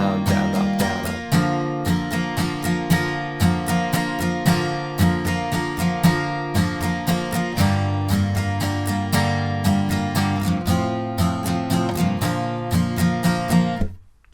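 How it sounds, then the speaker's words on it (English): Acoustic guitar strumming the verse of a song in a steady down-down-up-down-up pattern, chords ringing fully and loud, close and alone with no voice over it, for about fourteen seconds. "So an easy strummed version for the verse will sound like this."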